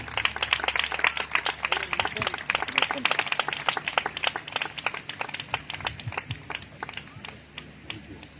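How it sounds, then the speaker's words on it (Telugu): Audience at an evening church gathering applauds in welcome, a dense run of sharp hand claps that gradually thins and fades over several seconds. "చప్పట్లు కొడుతూ ప్రేమతో వారిని ఆహ్వానిద్దాం"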